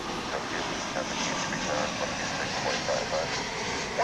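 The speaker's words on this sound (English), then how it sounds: "here's the MD-11, which, I don't know, kind of looks like it's going over to the east side" An MD-11 airliner passing over DFW International Airport gives a steady, broad distant roar of jet engines with faint voices underneath.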